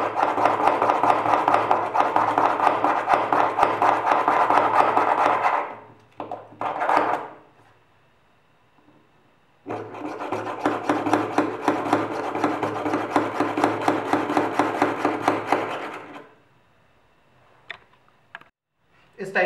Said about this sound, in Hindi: इस टाइप से ड्रिल की हेल्प से मैं सारे होल्स कर दूंगा